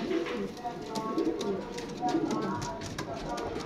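Pigeons just released from hand coo softly in repeated low, throaty phrases, with someone talking over them close by.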